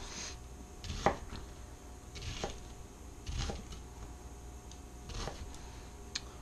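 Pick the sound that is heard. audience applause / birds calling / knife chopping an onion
knife chopping an onion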